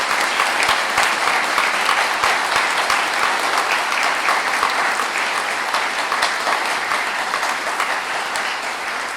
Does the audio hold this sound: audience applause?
yes